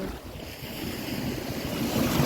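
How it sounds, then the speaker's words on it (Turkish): Rough sea waves surge and wash in a continuous roar, mixed with heavy wind buffeting the microphone, with no talking. "Bir insan surf yapamaz bu dalgada bence."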